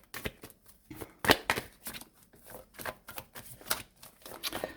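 Tarot cards are shuffled for a weekly reading, giving a series of close, crisp riffling and slapping bursts in an uneven rhythm, with no voice.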